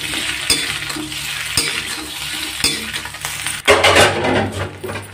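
Steamed rice fara dumplings stirred and fried in a pan, with steady sizzling and scraping as a utensil turns them, louder after a clatter partway through.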